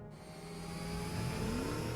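A car engine in the Mobile Legends video game runs steadily and loud for two seconds, its mid-pitched drone rising as it revs up toward the end, with no talking over it.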